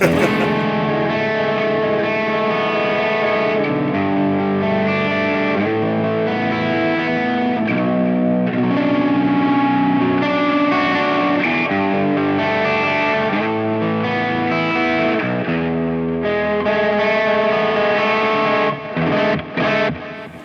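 Baritone guitar played through a Hotone Binary amp and cab, a thick distorted riff with chorus-like shimmer ringing steadily for about twenty seconds, loud and alone, ending in a few short stabs.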